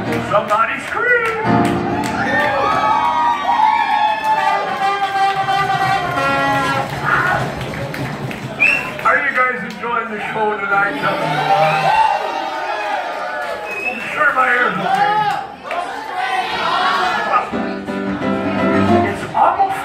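Audience at a live country-western stage show, the Yeehaa Bob show, yelling and cheering loudly and continuously over lively music, with voices and clapping blending into a dense, sustained crowd roar.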